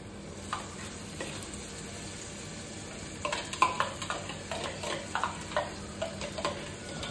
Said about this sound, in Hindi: इशू आ गई थी कोचिंग से और अब दाल फ्राई कर रही है।